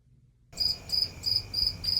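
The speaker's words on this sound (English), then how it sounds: "Crickets." Steady, rhythmic cricket chirps begin abruptly after a brief silence, repeating evenly and clearly with a faint background hum.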